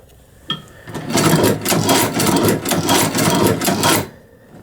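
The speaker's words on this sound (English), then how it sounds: "as you can see, it's still stitching really nice" A low-cost leather sewing machine stitching leather at a longer stitch length, a steady close mechanical run of rapid rhythmic thumps lasting about three seconds before stopping.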